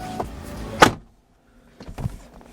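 A car door thuds shut once, loud and close, followed by a quiet pause and then softer clunks and rustling.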